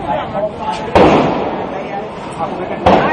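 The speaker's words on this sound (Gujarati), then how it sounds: "ફોડવાના એ નાના નાના ફટાકડા છે ખાલી અજડવાના છે ફૂટી જશે" Two small Diwali firecrackers burst close by in two sharp cracks about two seconds apart, set among voices and household noise.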